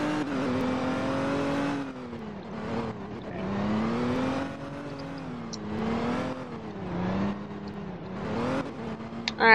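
Car engine in the Roblox game Liberty County, droning and revving in repeated rising and falling sweeps as it drives, steady and close with no talk.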